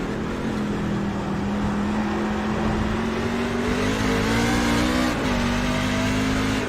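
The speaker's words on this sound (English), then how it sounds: "You can hear when Kyle gets on the throttle, when he gets off, when he shifts, when he downshifts." A race truck engine at a Truck Series event revs steadily on throttle, its pitch climbing and dipping as it shifts and downshifts, a continuous close drone with no talk.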